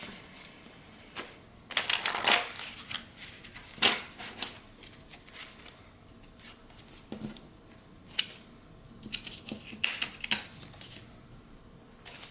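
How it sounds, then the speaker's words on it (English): Tarot or oracle cards shuffled in several bursts of riffling and slapping, close by, with short pauses between, quieter in the second half. "Let me shuffle this side too"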